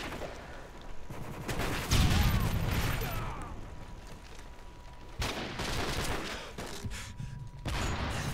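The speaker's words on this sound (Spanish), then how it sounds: "Yo disparo por si acaso había alguno." Gunfire in a video game, with heavy bursts of shots around the two- and five-second marks over a continuous noisy battle background.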